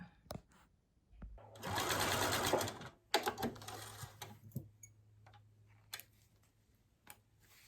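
A sewing machine runs a short, dense burst of stitching for a bar tack while sewing a necktie bag, then stops; scattered clicks and light handling sounds follow, close and fairly quiet.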